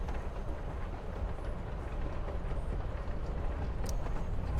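Train yard ambience in Life is Strange Before the Storm: a steady low rumble and broadband hiss at an even level throughout, with a faint high metallic squeal near the end and no voices.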